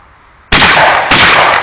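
Two sharp, loud gunshots crack in quick succession at a shooting range during a stag party outing, the second about half a second after the first, each leaving a broad ringing tail.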